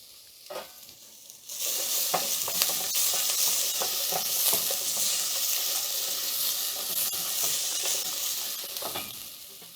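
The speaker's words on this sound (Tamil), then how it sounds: "பெருங்காயம். இதையெல்லாம் நல்லா வறுத்துட்டு" Curry leaves, dried and green chilies, ginger and asafoetida hit hot oil for lemon rice, bursting into a loud, close sizzle after a quiet start, with crackles and spatters continuing under light stirring.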